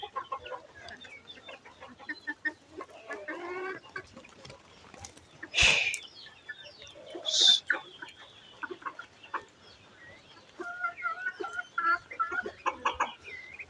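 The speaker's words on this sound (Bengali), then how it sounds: "হাঁস এর বাচ্চাগুলো মুরগি সবগুলো এসে খেয়ে ফেলতেছে" Scattered clucks and chirps from chickens and ducklings feeding come and go at close range, with a couple of sharp loud squawks and busy pecking sounds in between.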